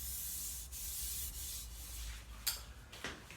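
An old wooden school ruler, smoothed after restoration, is rubbed in a soft, continuous hiss of friction with a few slightly sharper strokes, close up and quiet.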